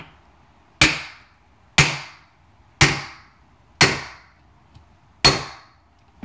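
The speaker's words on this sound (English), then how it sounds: "Once you got it in there, just take a hammer." Five sharp hammer strikes drive a seal into a truck wheel hub, evenly spaced about a second apart, each loud and close with a quick ringing decay, alone in a quiet garage.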